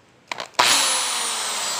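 A couple of quick clicks, then a power drill whirs up to a high, steady whine and keeps running close by during repair of a broken cellphone stand.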